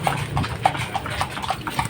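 Horse hooves clip-clopping at a steady walking rhythm on a road during a tourist ride, several distinct close hoofbeats over a low background rumble.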